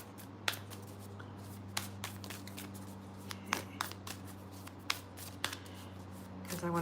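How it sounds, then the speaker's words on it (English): Oracle deck cards shuffled by hand with quiet, irregular snaps and flicks over a steady low hum, fairly soft and close. "Okay, let me shuffle the oracle deck real quick."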